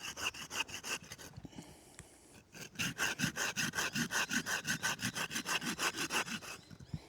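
A knife blade cuts a groove around a wooden tent peg, giving rapid rhythmic rasping strokes, close and loud, in a steady back-and-forth sawing pattern after a brief pause.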